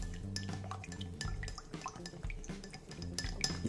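A cocktail spoon stirring honey and rum in a glass tumbler, giving soft clinks and light clatters of metal against glass that repeat steadily and quietly throughout.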